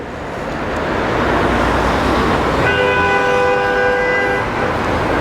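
A train horn near a station in Kyiv sounds one long sustained chord-like toot over loud, steady city and rail noise, close and prominent for about two seconds.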